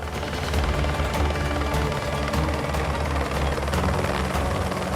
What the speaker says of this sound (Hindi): हेलीकॉप्टर पास आ रहा है।